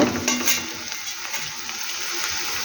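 Food frying in a pan with a steady, close crackling sizzle and faint occasional stirring scrapes, before tomatoes are added.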